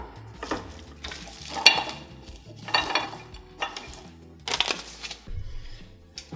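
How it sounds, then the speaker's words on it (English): Small plastic dollar-store Easter eggs are popped open one after another, a series of light, sharp plastic clicks and rattles in quick bursts, close and fairly quiet with no talking. "I'm just gonna open these up and mix out like this"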